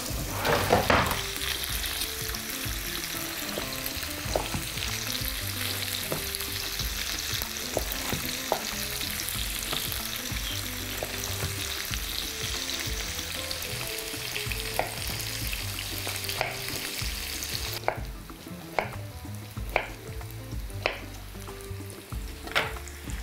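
Zucchini and sweet pepper fry in a pan with a steady, close crackling sizzle, punctuated by sharp utensil clicks and scrapes, and the hiss eases somewhat near the end.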